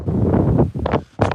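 Strong wind blowing across hillside terraces, buffeting the microphone in loud, rough gusts that drop briefly before surging again, close and harsh, with no voices.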